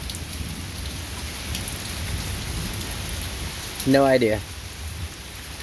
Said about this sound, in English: And it's raining. I got lightning, I got thunder.